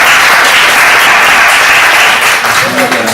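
Audience applause for Professor Niwa at a closing dialogue session, sustained loud clapping from a full room that tapers slightly near the end, with a voice faintly heard under it.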